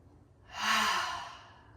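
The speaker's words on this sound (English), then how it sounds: "Exhale through your mouth, H-A, audible ha sound." During a trauma-informed yoga session, a person breathes out through an open mouth with an audible 'ha'. The exhale is long and breathy, swelling and then fading close by, with no speech.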